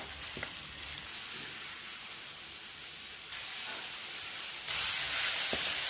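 Chopped tomatoes frying in a pan while being stirred for a pumpkin chickpea sabzi, a steady close sizzle and hiss that grows louder in steps, with occasional faint spoon taps and no talking.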